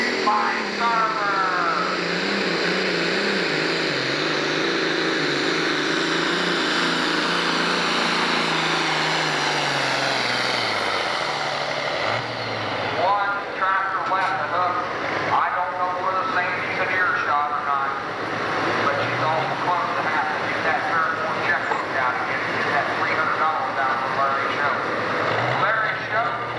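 A John Deere 4955 tractor pulling at a 10,000 lb Pro Stock class tractor pull at the Ohio State Fair: a loud sustained engine roar that holds, then drops away, while an announcer talks over it throughout.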